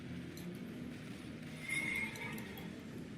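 A horse in Elden Ring neighs once, a short bright whinny rising over low rumbling game ambience and faint hoof clatter, heard fairly quietly without talk.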